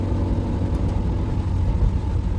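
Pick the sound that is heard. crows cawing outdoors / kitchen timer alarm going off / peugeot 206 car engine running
peugeot 206 car engine running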